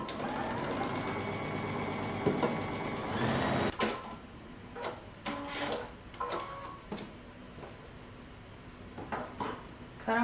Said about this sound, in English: we're going to sew this closed using 5/8 of an inch seam allowance